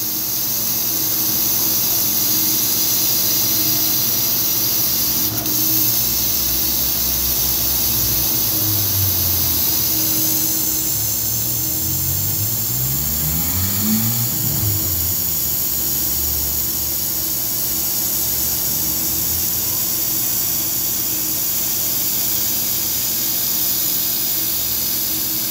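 A 60x40 80 W laser cutting and engraving machine cuts MDF, giving a steady loud hiss of exhaust and air assist with a faint motor whir that shifts pitch midway, continuous and close without speech.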